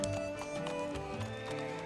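A horse's hooves clip-clop steadily during a trail ride in the Alberta countryside, soft and fairly distant, with a faint hum of other sound beneath.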